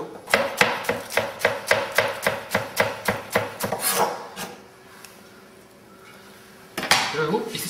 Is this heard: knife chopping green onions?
yes